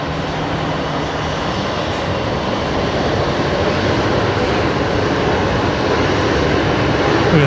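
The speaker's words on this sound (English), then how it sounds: "Air Callan coming in with the 320 Neo." An Air Calin Airbus A320neo comes in to land at Brisbane Airport, its loud, steady jet roar filling the air and building slightly as it passes close by.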